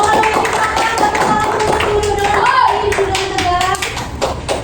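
A primary school class clapping hands together in a classroom, a quick busy patter of many small hands with children's voices and chatter mixed throughout.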